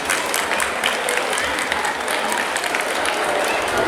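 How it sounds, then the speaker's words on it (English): Audience at a school National Sports Day mini marathon event claps loudly and continuously for the students, a dense, even round of applause with crowd murmur filling the whole stretch. "A big round of applause to all of you"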